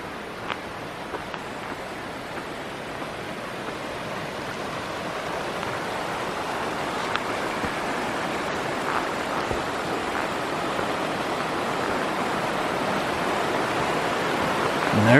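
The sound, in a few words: rushing water at confluence of two rivers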